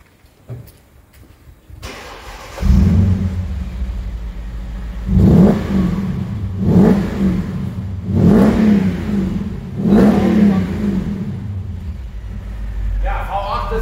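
A warm Mercedes S-Class V8 engine cranks and catches, then settles into a deep idle and is revved hard four times in a row, each blip rising and falling back.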